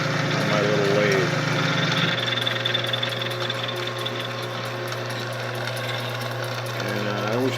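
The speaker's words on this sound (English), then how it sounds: "I can do some milling here" A small bench lathe fitted with a milling attachment cuts into metal, giving a steady motor hum with a rough, chattering grind from the cutter that eases off midway and picks up again near the end, with no talking.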